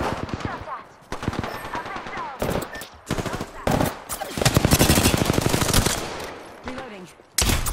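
Automatic gunfire from Apex Legends erupts in loud, rapid bursts of shots, broken by short pauses, with dense stretches of sustained firing near the middle.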